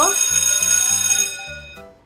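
A school bell rings with a bright metallic tone that carries on steadily and then fades out, with a low voice faintly underneath.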